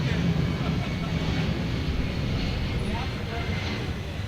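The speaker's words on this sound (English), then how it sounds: "Hometown flyover for Micah Calvillo." An airplane roars overhead above an indoor swimming pool during a masters swimming national championship, producing a loud, steady broadband rumble that fills the whole span with no breaks.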